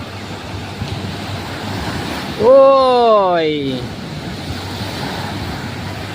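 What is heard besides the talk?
ocean waves at a beach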